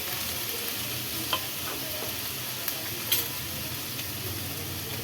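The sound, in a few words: sautéing tomatoes, ginger, garlic and whole spices in a pan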